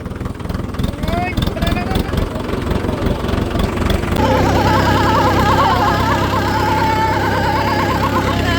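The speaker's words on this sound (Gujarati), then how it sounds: "તો ટ્રેક્ટર રાખી દીધું વાડીએ પાર્કિંગમાં." A farm tractor idles after off-road riding, a steady, loud low engine drone that takes over midway once earlier voices and movement noises die down.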